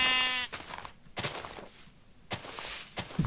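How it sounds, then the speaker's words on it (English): A sheep in a farming video game gives one clear, drawn-out bleat at the start, followed by several sharp, loud bursts spaced about a second apart, with no speech. "Hello, sheep."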